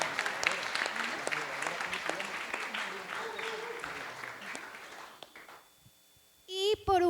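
Audience at a university lecture applauds a teacher, a full round of clapping that gradually thins and fades out, followed by a voice speaking close by.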